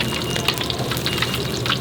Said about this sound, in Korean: 여기를 한 번 더 튀기는 거예요.